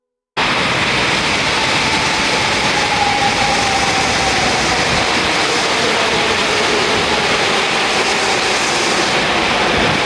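A Dhaka metro train arriving at a station rumbles steadily and loudly, with broad roaring noise throughout and a faint whine rising briefly as the rail car pulls in close by.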